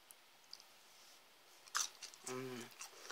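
A few close crunchy bites and chews of crispy french fries, brief crackling bursts in an otherwise quiet room, with a faint murmur near the end.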